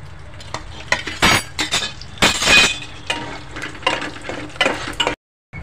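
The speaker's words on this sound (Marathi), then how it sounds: "काजू लगेच फ्राय होतात।" Cashews frying in oil in a home kitchen pan while a pulao is cooked: sizzling bursts mixed with stirring scrapes and light metallic clinks, close and fairly loud, ending in a brief silence.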